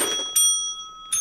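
Bright bicycle-style bells ring twice in a short clip, each strike leaving a long clear ringing tone that fades out, in a game setting, with no talk.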